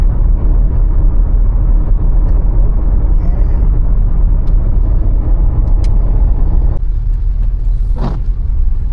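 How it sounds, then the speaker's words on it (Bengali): A car speeds along a road on a weekend trip in light drizzle, giving a loud, steady engine rumble and road roar that stays unbroken from start to finish. "এত জোরে গাড়ি চালাচ্ছে"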